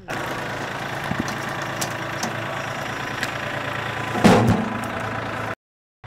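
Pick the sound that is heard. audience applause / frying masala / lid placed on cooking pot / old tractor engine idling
old tractor engine idling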